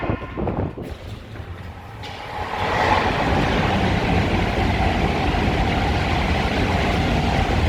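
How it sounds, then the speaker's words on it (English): A train pulls into the platform at Leighton Buzzard station, its broad rumble building after a couple of seconds and then holding steady and loud, with brief scuffing noise at the start. "Platform 1 train coming."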